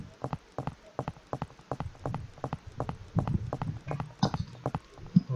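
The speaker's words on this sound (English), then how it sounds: "let's hear their footstep sound." Enemy soldier footsteps in a Unity3d mobile third-person shooter game: hard, evenly spaced steps in a regular walking rhythm, moderately close and fairly quiet, with no talking.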